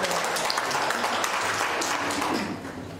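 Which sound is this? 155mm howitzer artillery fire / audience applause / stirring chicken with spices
audience applause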